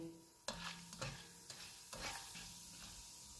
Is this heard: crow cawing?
no